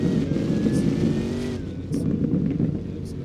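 A loud car engine revs continuously at a Southwest Florida car meet, a dense steady roar with a brief dip in the middle before building again, close by and unbroken throughout.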